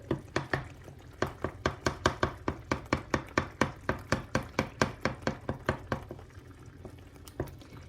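Eggs broken up in tomato sauce in a pan, with about twenty quick, evenly spaced utensil taps and scrapes against the pan in a steady rhythm that slows and fades near the end.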